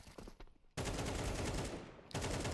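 SMG gunfire in a Counter-Strike esports match: loud, rapid automatic bursts fill most of the stretch, with a short break before another burst starts near the end.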